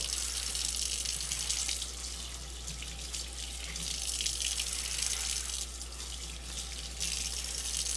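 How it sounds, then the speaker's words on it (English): A tap runs steadily into a sink, warm water splashing and hissing with slight shifts as a wooden cutting board is scrubbed under the stream; no voices. "I'm using warm water just to scrub this all down."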